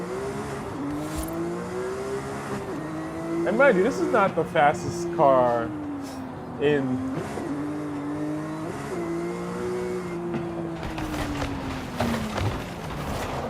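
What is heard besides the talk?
Porsche GT3 RS engine revving on track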